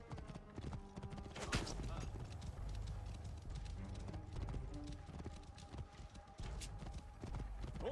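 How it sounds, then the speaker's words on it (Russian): Horse galloping in Assassin's Creed Origins, a dense rapid clip-clop of hooves running steadily throughout, close and prominent, with voices talking over it. "Лошадь, где моя лошадь"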